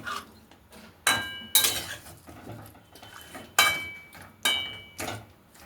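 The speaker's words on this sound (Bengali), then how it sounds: "এই সব নেড়ে দিচ্ছি একসঙ্গে" Metal spoon scraping and clinking against a pan on a gas stove while ingredients are stirred together, sharp irregular clatters and taps with quiet gaps between, close and fairly soft.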